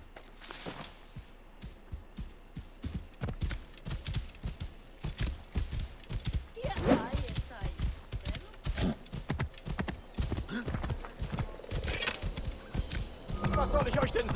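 Rhythmic clip-clop of a horse trotting steadily in the video game Assassin's Creed Origins, with talk over it and a brief whinny partway through.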